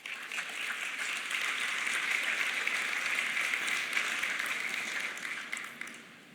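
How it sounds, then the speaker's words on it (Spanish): Steady applause from an audience for a woman during a motivational talk, a dense wash of clapping that swells, holds for several seconds, then tapers off. "Un aplauso para ella."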